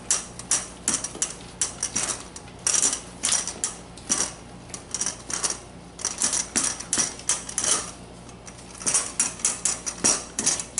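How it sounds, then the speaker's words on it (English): Six egg yolks being mixed by hand into almond-flour keto bread batter in a bowl, with rapid, irregular clinking and scraping of a utensil against the bowl, close and steady for about ten seconds, no talk. "Now I'm going to add my 6 egg yolks. Mix this all together very well."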